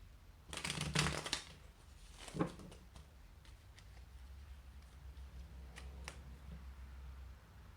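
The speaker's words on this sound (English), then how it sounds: "I'm just going to shuffle the deck a little bit" A deck of tarot cards being riffled and shuffled, a quick flurry of papery flutters and taps near the start, then faint soft handling over a low background hum.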